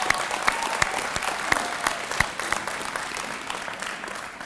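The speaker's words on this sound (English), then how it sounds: "graduates, I think it's time you give your families a round of applause" Families fill a commencement hall with sustained, loud applause for the graduates, dense clapping from a large crowd with a few sharper claps standing out near the front.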